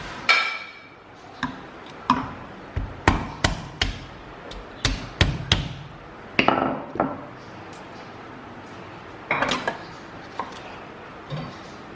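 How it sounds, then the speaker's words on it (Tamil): Cucumbers smashed with a wooden rolling pin on a board, a series of sharp, close thuds and cracks in irregular clusters with quieter rustling between strikes, no talking. "ஒரு சப்பாத்தி கட்டையை வச்சு"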